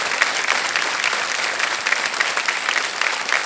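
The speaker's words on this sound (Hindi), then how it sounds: "ये जो ताली है ये बड़े भैया की ओर से है।" Studio audience applause on a Hindi television quiz show, a dense steady wash of many hands clapping at even loudness for the whole stretch, with no voices over it.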